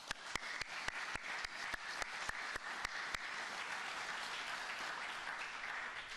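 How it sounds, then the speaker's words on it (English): Steady applause from the audience at a Los Angeles County press briefing marking six months since the firestorms, punctuated early on by a rapid series of sharp clicks that stop partway while the clapping continues. "So I want to give you a round of applause."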